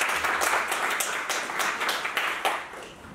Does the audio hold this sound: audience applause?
yes